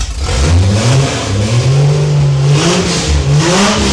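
A cammed Ford engine revs loudly up close, climbing and falling in pitch across several throttle blips and holding a rough, lumpy note with no talk over it.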